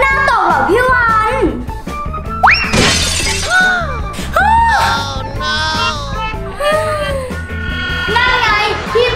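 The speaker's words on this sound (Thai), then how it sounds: "เดี๋ยวแก้วก็ตกแตกหรอก" A drinking glass drops and shatters with a sharp, bright burst of breaking glass, mixed in among loud, excited children's voices talking and yelling throughout.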